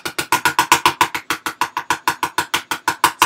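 Plaster of Paris sits in a fully 3D printed mold while a vibrating device runs against it, producing a rapid, steady buzzing rattle of about six pulses per second, loud and close, with no voices.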